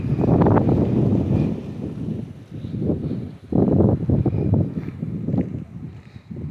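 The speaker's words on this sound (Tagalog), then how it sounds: "Grabe, ang lakas ng hangin." Strong outdoor wind buffets the microphone in loud, rumbling gusts that surge and ease irregularly, with a brief lull midway before blasting again, near a roadside vegetable garden.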